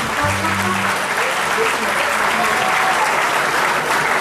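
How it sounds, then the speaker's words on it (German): Steady, dense applause from a large audience at an Austrian folk music show, filling the whole stretch evenly and loudly with a brief tonal note at the start. "wirklich ein Riesenapplaus"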